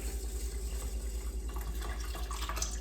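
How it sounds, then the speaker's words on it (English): Water pours steadily from a tap into a rice cooker pot holding rice, a close, continuous running splash with no talking. "I need to add some water."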